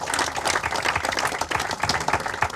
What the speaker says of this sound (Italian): E allora un applauso ad ogni nome